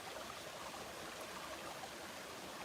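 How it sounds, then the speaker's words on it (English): A small jungle brook in Costa Rica flows steadily nearby, a constant soft rush and trickle of water with no voices over it. "this is a nice little brook"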